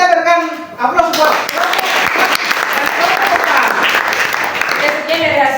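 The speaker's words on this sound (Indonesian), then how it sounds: "Kita berikan aplaus buat" A classroom group gives applause for a presenting group, with a dense burst of clapping hands that starts after a short spoken line and stays loud and steady to the end, with a few voices mixed in.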